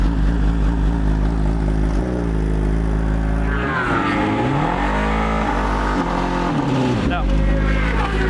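A racing motorcycle engine runs on a stand in a MotoAmerica paddock, a loud steady drone with pitch swings as the throttle is blipped up and down, under background noise and nearby chatter.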